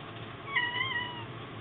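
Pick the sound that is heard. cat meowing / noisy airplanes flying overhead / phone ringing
cat meowing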